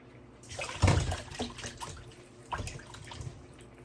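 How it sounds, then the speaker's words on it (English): Tap water runs and splashes as a Scotch bonnet pepper and thyme are rinsed under it, with uneven bursts of splashing nearby and no talking. "I'll give that a rinse as well. I also give my thyme a rinse."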